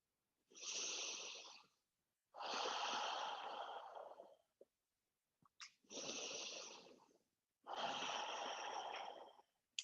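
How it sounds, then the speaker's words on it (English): Four slow, deep breaths during a yoga session, each a long airy inhale or exhale separated by short silences, close and soft with no talking. "just take some deep breaths here"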